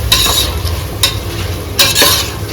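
Chopped tomatoes fry in hot oil for chicken biryani, a spoon scraping through them in a few bursts over a steady, close sizzle with no voices.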